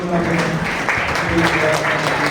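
A church congregation applauds with dense, steady clapping throughout at a prayer meeting, with voices mixed in underneath.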